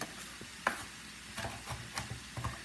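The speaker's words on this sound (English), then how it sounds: "I'm just chopping it up just a little bit more" A knife chops seasoning on a cutting board for Jamaican-style curry chicken, giving a quiet, irregular run of soft taps spaced a fraction of a second apart in a calm kitchen.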